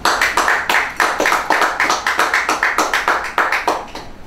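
At a 2017 graduation and CSEC awards ceremony, a small audience claps in a rhythmic, fairly close patter of distinct individual claps, steady for a few seconds with no talk.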